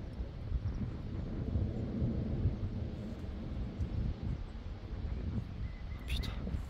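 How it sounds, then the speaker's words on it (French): Wind during a strong thunderstorm near Grenoble in the Alps buffets the microphone in a steady, low rumbling roar that swells and eases slightly, with a brief rustle near the end and no voices. "Il y a un vent froid, enfin chaud et froid en même temps."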